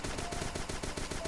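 Rapid gunfire from the video game Starbound, on a volcano planet: a quick, even stream of faint shots repeating about every tenth of a second, steady and continuous throughout.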